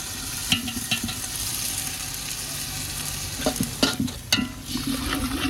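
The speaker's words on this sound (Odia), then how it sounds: "ପିଆଜ ଅଲରେଡ଼ି ଜାରି ହେଇଗଲାଣି" Onions and masala for a country chicken curry fry loudly in a pan at an outdoor picnic cookout, with a continuous close sizzle and occasional sharp scraping stirs near the end.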